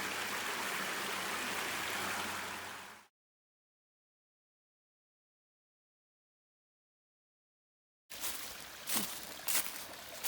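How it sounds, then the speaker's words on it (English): A small creek drops down along a hiking trail, its steady rushing flow close and full for about three seconds. Then comes a silent gap, and the water returns with sharper splashy bursts near the end. "nice little water features, little creek dropping down, which looks like I get to cross"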